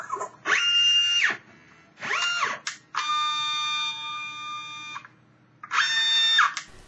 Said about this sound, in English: In this demonstration, the autosampler dispenses the filtrate into a collection plate.